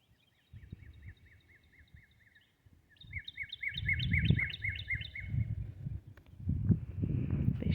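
Robins sing on a spring neighbourhood walk past a lawn: bright chirping phrases that repeat and grow busier, fairly close, over soft rustling and footstep-like thumps.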